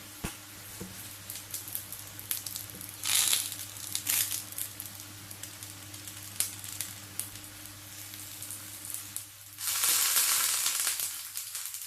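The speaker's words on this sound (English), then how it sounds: "check out this frying." Ramen ingredients frying in a pan give a steady sizzle that rises into louder bursts of crackle, with a constant low hum running underneath and no one talking.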